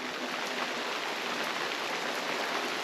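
Steady rain falling on a roof overhead, a soft, even hiss of dense drops that stays constant throughout, faint and with no talking.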